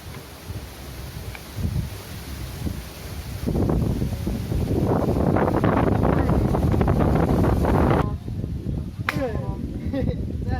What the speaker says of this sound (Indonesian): Angin eh.